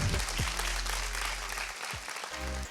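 Audience members at a magic and ventriloquism show clap after a trick, a steady round of applause that holds strong and then briefly dips before picking up again.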